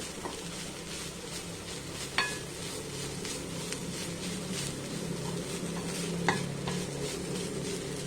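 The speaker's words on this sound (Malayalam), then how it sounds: "നമുക്ക് അല്പം നേരം 1 മിനിറ്റ് ഇളക്കി കൊടുത്താൽ മതി" A spoon stirs and scrapes through green beans in a frying pan under a steady soft sizzle, with a couple of sharper metallic taps.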